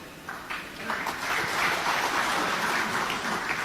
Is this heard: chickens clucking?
no